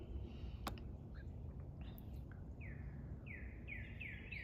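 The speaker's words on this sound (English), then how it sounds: "I love to hear the birds too, and it's a gorgeous day." Outdoors on a fine day, several birds chirp and sing in short bright bursts and rising calls, moderately near over a steady low background rumble.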